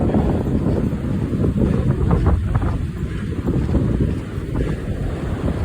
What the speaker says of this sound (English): wow, the wind's really blowing